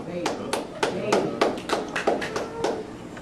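Sharp, evenly spaced claps, about a dozen in a quick steady rhythm, loud and close, while a voice talks over them.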